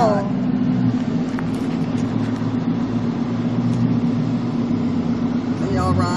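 Steady low engine rumble inside a moving car, a constant drone filling the cabin while voices speak over it.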